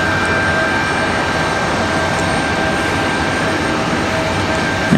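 Southwest airliner on a long flight from Phoenix, Arizona, arriving at Raleigh-Durham International on a windy day, its engines a loud steady broadband roar that holds evenly throughout with no voices.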